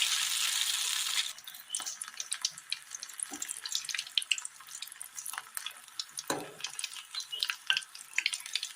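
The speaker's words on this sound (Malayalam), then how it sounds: "ചൂടായ എണ്ണയിലേക്ക് ഉപ്പ് പുരട്ടി വെച്ചിരിക്കുന്ന തക്കാളി മാവിലേക്ക് മുക്കി അതൊന്ന് വറുത്ത് കോരിയെടുക്കാം" Salted tomatoes dipped in batter deep-fry in hot oil with a busy crackling sizzle and scattered sharp pops, steady and close for several seconds with no voices.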